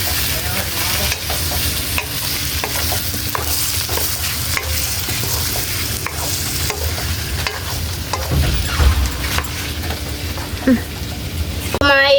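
Octopus adobo being stirred in a frying pan, with a steady sizzle and repeated scraping strokes of the spoon running throughout at close range. A voice speaks briefly near the end.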